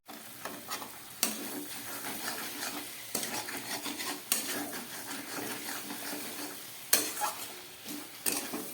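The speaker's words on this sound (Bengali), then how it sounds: "সমস্ত মশলা দিয়ে খুব ভালো করে কষিয়ে নিলাম।" Spices for an aloo dum potato curry are fried and stirred in a pan, with a soft steady sizzle under repeated scraping strokes and occasional louder clacks of a utensil against the pan, close and fairly quiet.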